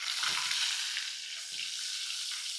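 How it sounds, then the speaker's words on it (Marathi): Crushed garlic and cumin seeds fry in hot oil with a pinch of asafoetida, tempering for a rustic chakvat greens dish; a steady, close hiss of sizzling runs throughout with a couple of soft stirring scrapes. "मग घालूया ठेचलेला लसूण. लसूण मात्र भरपूर गेला पाहिजे. हिंग घालू आणि याला परतून घेऊ."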